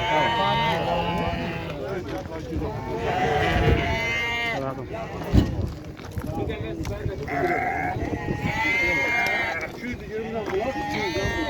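Lambs and goats bleat repeatedly at a livestock market in Xaçmaz, Azerbaijan, with loud, wavering calls rising over constant talk and bargaining among the crowd.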